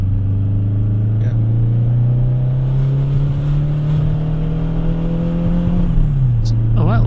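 A turbocharged VW Beetle engine drones steadily from inside the moving car, a loud, constant low hum that rises slowly in pitch, then drops as the driver shifts.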